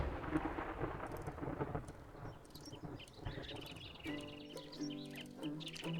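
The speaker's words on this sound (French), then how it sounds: "tant que la tempête n'est pas passée, on fera rien de bon" A thunderstorm in the survival video game 7 Days to Die brings rolling thunder and steady rain, with faint bird chirps over the storm's continuous rumble and no talking.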